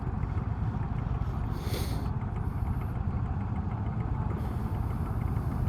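An Indian Chieftain motorcycle engine idles with a steady low rumble under a constant wash of wind-like noise throughout.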